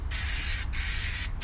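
Aerosol can of undercoating spraying onto a 1987 GMC truck, three steady hissing bursts separated by brief pauses, loud and close with no talking.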